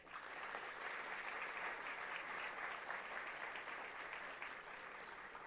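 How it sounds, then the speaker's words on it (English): Conference audience at a national finance event giving a round of applause, a dense, even clapping from many hands, fairly faint and continuous for several seconds before tapering slightly. "We must thank him with one more round of applause."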